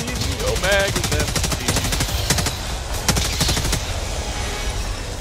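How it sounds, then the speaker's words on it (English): Rapid machine gun bursts in a video game, dense repeated gunfire crackling loudly through most of the stretch, with voices talking over parts of it. "That's an effective barrage."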